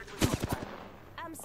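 Devotion energy weapon firing in Apex Legends, a quick burst of four or five loud shots, followed by a brief game sound effect.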